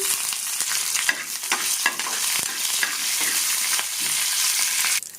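Fenugreek seeds, a dried red chili and curry leaves sizzle steadily in hot oil for a Telugu ridge gourd yogurt chutney, with close crackling and occasional stirring scrapes throughout, no voices.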